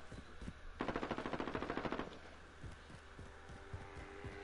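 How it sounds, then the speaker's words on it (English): Rapid burst of automatic gunfire in a video game, about a dozen evenly spaced shots over a second, followed by quieter scattered thuds and low ambient hum, no voices. "I heard gunshots, but I'm not turning around."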